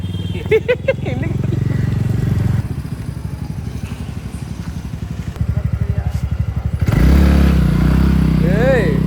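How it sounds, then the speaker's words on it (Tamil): A motorcycle-like engine runs steadily and close, with a pulsing idle that surges louder near the end, while voices talk over it. "பைக் மாதிரி சவுண்ட் வருது"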